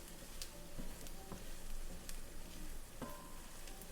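Turkey wings browning in a pan give a quiet, steady sizzle with faint crackles and a few sharp pops, no voices over it.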